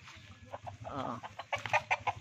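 Young gamecock stags clucking close by, a series of short rhythmic clucks that quicken and grow louder toward the end, with no talk over them.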